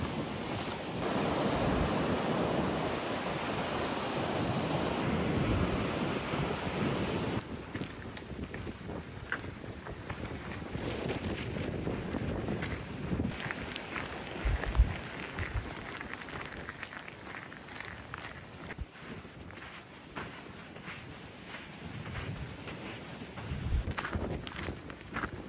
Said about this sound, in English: You can hear that noise the wind is making.